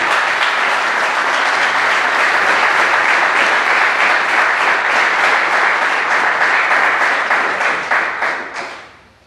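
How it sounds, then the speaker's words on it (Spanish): A church congregation bursts into loud, sustained applause, a thick roar of many hands clapping close by that holds steady before tapering off at the very end. "Dale un aplauso al Señor"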